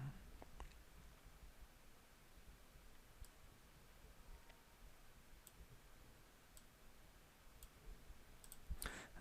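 Computer mouse buttons click a few times while working in ZBrush 4r6, sharp isolated ticks spaced several seconds apart over a faint, quiet room hiss.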